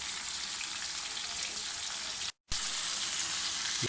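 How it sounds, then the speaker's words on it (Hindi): Tomatoes go into chicken karahi cooking over high heat, a loud continuous sizzle with a brief cut of silence midway before the frying hiss resumes. "इस तरह हम सारे टमाटर डाल देंगे इसमें"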